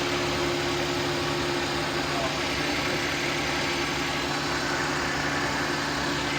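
A freshly overhauled engine idles in a steady, continuous hum with a faint vibrating rumble, heard close and unchanging throughout.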